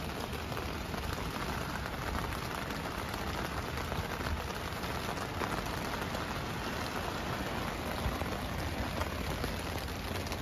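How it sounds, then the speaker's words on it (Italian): Steady rain pours down on an outdoor fishing spot, a dense, constant hiss of drops striking surfaces that stays even and close throughout with no voices. "iniziamo il video con un po' di pioggia"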